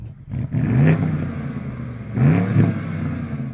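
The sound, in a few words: BMW V8 engine revving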